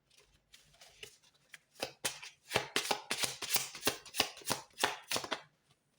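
Tarot cards being shuffled by hand, a run of crisp, close slapping riffles and snaps that builds into a quick rhythmic sequence of a dozen or so strokes before stopping, with no voices.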